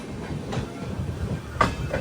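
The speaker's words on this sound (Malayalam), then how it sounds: "വഞ്ചിമണിയാഞ്ചി ജംഗ്ഷൻ റെയിൽവേ സ്റ്റേഷനിലേക്ക് ഇതാ ട്രെയിൻ എത്തിക്കൊണ്ടിരിക്കുകയാണ്" Express train pulling into Vanchi Maniyachi Junction station on the Thoothukkudi to Mysuru route, a steady rolling rumble of wheels and carriages with a brief sharper clank, heard at moderate distance in breezy platform air.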